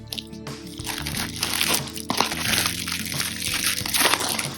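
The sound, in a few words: opening a taped cardboard package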